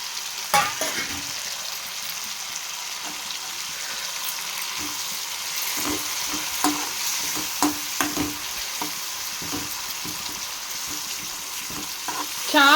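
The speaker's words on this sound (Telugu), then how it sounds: "నా కోసమేమో ఈ పచ్చి రొయ్యలను మునగాకు ఫ్రై చేస్తున్నానండి" Raw prawns with drumstick leaves frying in a pan, giving a steady close sizzle with intermittent stirring scrapes and clinks throughout, no voices.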